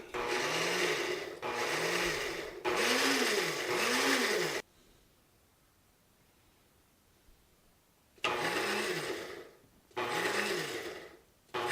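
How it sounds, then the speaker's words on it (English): A blender roars in short pulses, several bursts in a row, then a pause of quiet before two more whirring pulses, grinding masala paste. "So I'll just turn my blender on, put it on pulse, and do a little bit of mixing."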